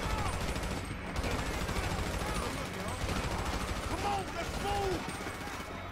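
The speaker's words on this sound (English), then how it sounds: "Oh, we've got to shoot the cops." Gunfire rattles in the video game GTA V during a shootout with police, dense overlapping shots and bursts running continuously beneath game noise and sirens-like tones.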